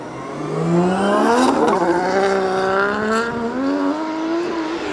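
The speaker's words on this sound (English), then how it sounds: "let's see him launch down the front straight" Drift car launching down the front straight at Pukekohe Park Raceway during a pro-sport drift qualifying round, engine rising loudly through revs with a gear change and continued high-pitched acceleration, close and prominent.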